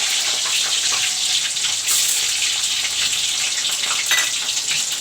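Onion and green chili fry in hot oil in a pan while moong dal and kundru bhaja are cooked, giving a close, steady hiss and crackle that stays loud throughout, with brief stirring clatters.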